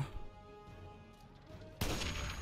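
A single sniper rifle shot in the video game Fallout 3, one sharp loud crack near the end following a quiet stretch of low ambient game sound.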